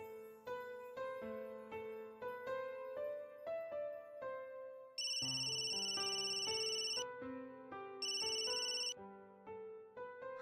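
A mobile phone ringtone plays a melodic tune of repeating tones, broken twice by bursts of bright, loud ringing, with no voices.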